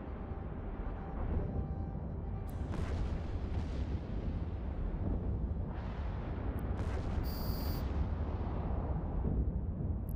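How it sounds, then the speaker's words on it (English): Ship weapons firing in the space game EVE Online, a steady dense wash of low booming bursts repeating across the whole stretch with a few sharper bright pops on top, loud and continuous with no talk. "All right, let's keep on shooting."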